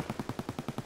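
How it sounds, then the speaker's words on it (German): Rapid automatic gunfire in the video game Escape from Tarkov, about eight evenly spaced shots in under a second, faint and distant, heard alone. "Schüsse."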